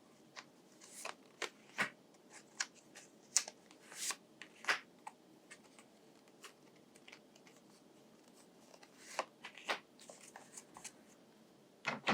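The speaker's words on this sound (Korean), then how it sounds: "자, 3장을 뽑아보도록 할게요." Tarot cards are shuffled and drawn by hand, with quiet, close riffles, slides and sharp snaps recurring in irregular bursts over a soft background, with no talking.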